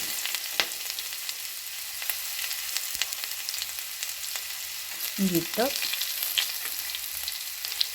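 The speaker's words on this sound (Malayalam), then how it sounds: "ഇതിലേക്ക് ഞാൻ ഇഞ്ചി ഇടുവാണ്" Ginger hits hot oil in a pan while a snakehead fish curry is being cooked, giving a soft, steady sizzle and crackle with a brief stirring scrape midway, fairly quiet and with no talking.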